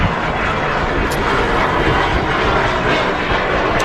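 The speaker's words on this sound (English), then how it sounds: "Holding short of the runway is the Manchester to Orlando service by Virgin Atlantic." A Virgin Atlantic jet holds short of the runway at Manchester Airport, a loud, steady broadband engine roar filling the air without a break.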